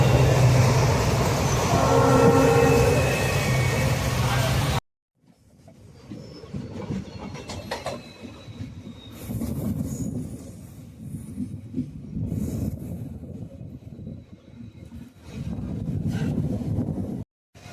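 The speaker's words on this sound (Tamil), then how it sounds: "வண்டி எக்ஸ்பிரஸ்னால நல்லா ஸ்பீடாக போயிட்டுருக்கு" An express train travelling fast on the rails, heard from on board: steady loud rumble and wind rush with rhythmic clatter, briefly cutting out before resuming as a continuous roar.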